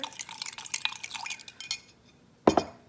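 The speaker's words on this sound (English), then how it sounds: "Give that another stir." A spoon stirs homemade lime soda in a cup, a run of close, quick liquid swirls and light clinks, then a pause and a final sharp clink against the glass.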